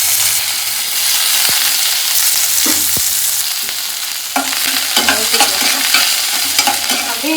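Onions and green chilies fry in a hot pan, a loud continuous sizzle with stirring scrapes and clacks of a spatula, growing busier with crackles toward the end, heard up close without talk.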